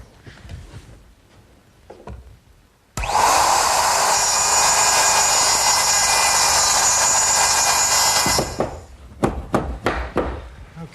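A router cuts a wooden tenon guided by a clamped template for an umbrella stand, roaring in loud and steady after a few quiet seconds of handling noise, then cutting off and leaving clattering knocks.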